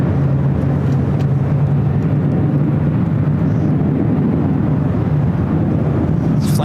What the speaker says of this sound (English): Delta 767 pushing back.